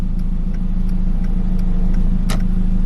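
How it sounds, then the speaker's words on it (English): The left turn signal of a Hyundai Genesis Coupe ticks at a normal, even pace with soft regular clicks over the steady low hum of the idling engine inside the car. "now check out the left turn signal"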